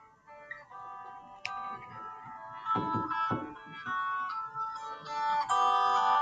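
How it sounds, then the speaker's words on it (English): A mobile phone rings with a melodic electronic ringtone, moderately loud and close, its tune rising and repeating over a few seconds with no talk. "That's my phone."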